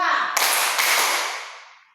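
Two crisp group claps from children playing a classroom clapping game, sounding in unison about half a second apart, each followed by a long, bright reverberant tail in an echoing room.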